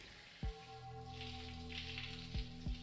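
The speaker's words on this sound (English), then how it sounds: "Now I hear the sound of water running." Shower water running in the Steins;Gate visual novel, a soft, steady hiss of spray that swells and fades beneath a sustained electronic tone, with a few low thuds.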